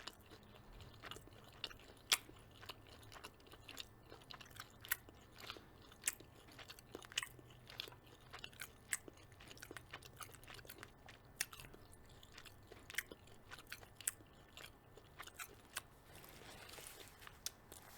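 Leftover chicken pad thai is chewed close to the mic, with soft, irregular bites and crunches over eighteen seconds, quiet and without talking.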